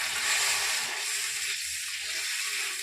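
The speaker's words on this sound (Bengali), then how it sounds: "এবার আমি মশলার মধ্যে জল দিয়ে দিচ্ছি, পরিমাণ মতো এখন জল দিয়ে দিচ্ছি" Water splashes into spice paste frying in a pan for a Bengali jackfruit kofta curry, giving a steady loud hiss and sizzle that holds throughout without a break.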